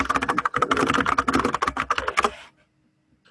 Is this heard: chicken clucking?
no